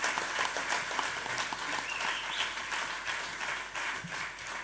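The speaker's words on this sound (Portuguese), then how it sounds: "Forte aplauso." Sustained audience applause fills a live concert-style talk show auditorium, a dense steady wash of many hands clapping at even loudness for several seconds with no voices over it.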